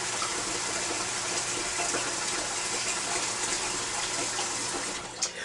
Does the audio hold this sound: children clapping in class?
no